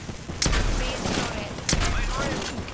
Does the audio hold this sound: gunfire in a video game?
yes